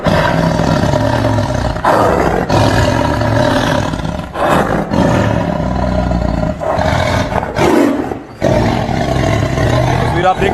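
A tiger at Gorakhpur zoo roars loudly in long, rough bursts separated by brief pauses, close and powerful, with people talking around the enclosure.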